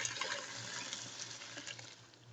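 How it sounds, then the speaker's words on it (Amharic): Water is poured into a cooking pot while a chicken dish is being prepared, a steady close rushing and splashing pour that runs continuously for a couple of seconds with no voices. "አሁን ውሃ እንደሚበቃኝ እጨምራለሁ።"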